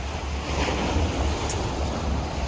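Ocean surf rolls steadily onto the shore at Sandy Bay, Pok Fu Lam, a continuous close wash of breaking waves with wind buffeting the microphone throughout.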